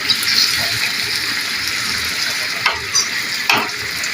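Dough frying in a pan for a meat dish with sauce, a dense close sizzle and bubbling hiss throughout with a few soft stirring scrapes.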